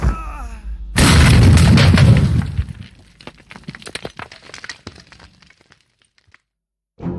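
A grenade explosion sound effect in a wartime scene, the blast going off after a brief quiet lead-in, then a loud sustained roar that breaks into scattered crackling debris and fades into silence.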